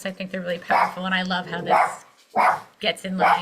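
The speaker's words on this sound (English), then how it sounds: "sorry, that's my dog." A dog barks several times in short, sharp bursts at home, mixed in with a person speaking over a call.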